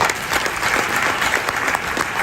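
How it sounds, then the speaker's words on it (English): Sustained audience applause at an internal auditors conference, a dense, steady clatter of many hands that fills the room for the whole stretch, loud and close with no talk over it. "A round of applause, please, for Miss Samuels"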